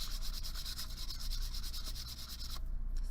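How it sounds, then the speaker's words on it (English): 320-grit sandpaper rubbed steadily around the edge of a stamped metal hinge-top bracelet, a close, even rasping with quick back-and-forth strokes that stops near the end. "I'm going to take my 320 sandpaper and I'm just going to go around the edge"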